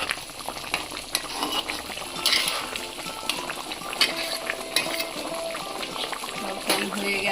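Koi fish curry simmers in a pan and is stirred gently, a bubbling, sizzling bed of sound broken by soft occasional stirs and light clinks.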